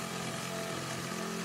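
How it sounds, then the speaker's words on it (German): Electric jigsaw cutting openings for an air grille in a fireplace installation, a dense continuous buzzing whine with a steady rattling saw stroke, close and loud throughout the short cut. "Die Stichsäge schafft es locker, Aussparungen für ein Luftgitter oder ein Rauchgasrohr oder irgendeinen anderen Zweck leicht und schonend mit der Stichsäge auszuschneiden."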